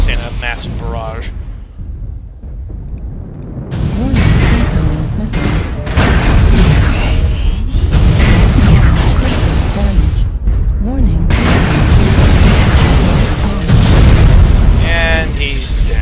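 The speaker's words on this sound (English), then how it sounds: "even an Atlas can't withstand a massive barrage" Heavy artillery barrage explosions in MechWarrior Online thunder in repeated deep booms and rumbling blasts, dense and loud, with a quieter lull early before the shelling builds and keeps pounding.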